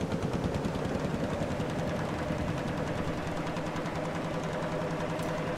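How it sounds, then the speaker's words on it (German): Loud, steady tractor engine drone in Farming Simulator 22, a dense continuous rumble with a faint rhythmic pulsing that holds at a constant level throughout, with no speech over it. "der Traktor ist mega laut"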